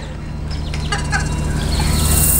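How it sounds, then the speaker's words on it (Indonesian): Young serama chicks cluck and peep softly in a steady stream, with a few brighter chirps standing out over a constant hum in the background. "hasil breeding saya anakan ayam serama"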